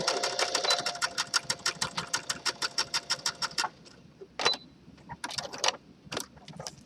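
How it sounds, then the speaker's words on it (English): A sewing machine stitches elastic down on a gathered skirt with a fast, even run of needle beats, then stops and restarts in short bursts with clicks between, close and fairly loud. "What I like to do is open up the elastic and then stitch it down on either side."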